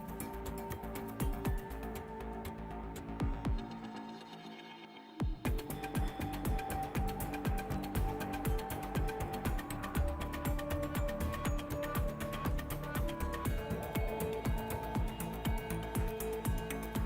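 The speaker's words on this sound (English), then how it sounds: "an automated system sorts and stacks the planks, then inserts small stickers to create air gaps" Automated sawmill machinery sorts and stacks lumber planks, a dense, steady industrial clatter of knocking, ratcheting and rolling mechanisms that briefly drops to a quieter hum before resuming at full loudness.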